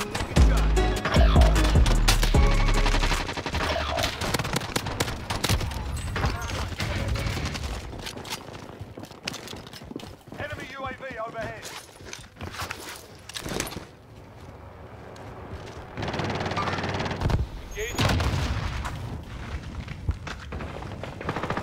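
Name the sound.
FINN LMG machine gun firing, Call of Duty Warzone video game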